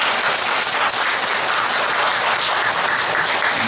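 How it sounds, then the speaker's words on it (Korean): A church congregation at a summer retreat service applauds, a thick, even roar of many hands clapping together that holds steady and loud from start to finish. "우리 모두에게 한번 박수 주시기 바랍니다"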